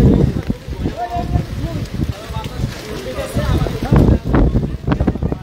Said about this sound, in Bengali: ছাতি লইয়ে দাঁড়াবার মতো কোনো কায়দা নাই। যে বাতাস,